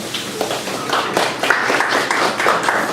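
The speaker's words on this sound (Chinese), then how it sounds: "那我们再次鼓掌，谢谢上官的演讲。" An audience at a tech talk on Windows Azure Mobile Service claps after the speech, a steady dense patter of many hands over three seconds, fairly loud and close.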